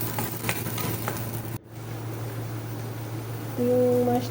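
Garlic hits hot oil in a pan for fish sarciado, a steady close sizzle with a brief break and light stirring scrapes, alone without talk.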